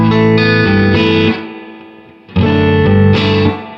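An electric guitar played through a Behringer VM1 analog delay pedal: two loud strummed chords, each sustaining with distorted, slightly chorused repeats that trail off before the next chord hits.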